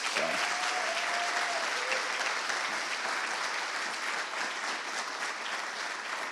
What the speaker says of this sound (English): One last round of applause for all of our contestants.